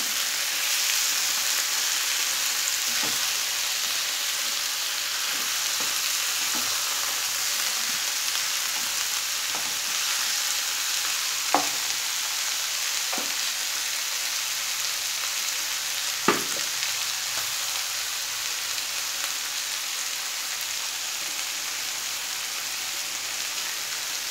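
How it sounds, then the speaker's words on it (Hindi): Drumstick flowers frying in a pan of oil make a dense, steady, close sizzle that lasts throughout, with a few sharp clicks of a utensil now and then. "20 से 30 सेकंड हमें इन फ्लावर्स को फ्राई करना है"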